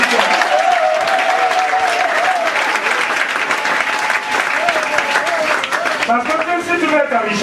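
Church congregation applauding and cheering in praise of Jesus during a pastor's sermon, a dense, continuous wash of clapping with voices and sung or shouted acclamation mixed in, loud and steady throughout.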